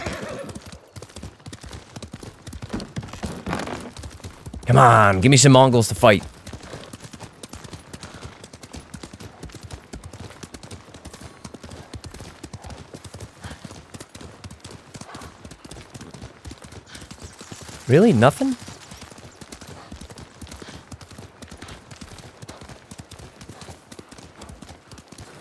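Horse hooves clip-clop in a steady gallop through Ghost of Tsushima, rhythmic and continuous, with two loud whinnies breaking in; someone talks briefly over the ride.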